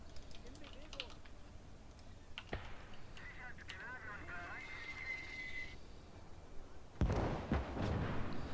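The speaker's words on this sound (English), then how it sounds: "This mortar is—it's just a huge pain in the ass." Mortar fire in the World War II strategy game Call to Arms: Gates of Hell, with sharp booming bursts, one sudden thump and a heavier roaring blast near the end, set against steady clicking and other battle noise.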